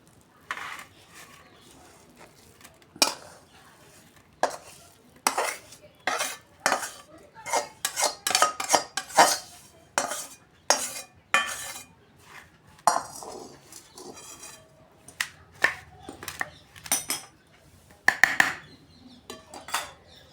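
A bowl scrapes and taps as it pours and spreads a sweet kachu katlu mixture into a ghee-greased tray, making intermittent close clinks and scrapes of metal and dishware with short pauses and no talking.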